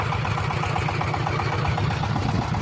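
A T-25 tractor engine working while plowing a field, a steady low mid-pitched diesel drone with continuous rhythmic pulsing, loud and close, with no talk.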